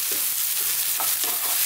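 Eggplant pieces stir-fry over really high heat with a dense, constant sizzle and soft rhythmic stirring scrapes, close and loud, with no talking.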